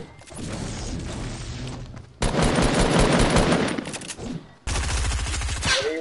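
Rapid automatic gunfire in Fortnite rattles in three loud bursts, the last a steady fast-pulsing stream, close and dominant with no talk over it.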